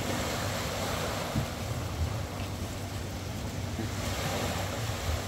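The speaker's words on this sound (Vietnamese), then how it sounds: "Mỗi lần tàu du lịch chạy ngang là sóng dữ lắm luôn." Wake from a passing tour boat washing against a riverbank where fish traps are set, a steady broadband surf wash with low rumbling surges and wind noise, no talking.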